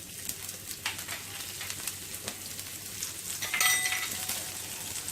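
Cumin seeds and green chillies fry in a pan with a faint, even sizzle and scattered soft pops, a brief brighter crackle midway, and no voices.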